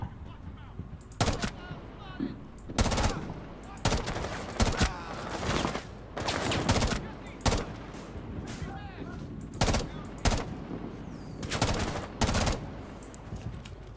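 Gunfire from a GIGN operator's gun in Rainbow Six Siege, loud and close in repeated sharp bursts and short volleys spaced through the whole stretch, with a quieter game bed between shots.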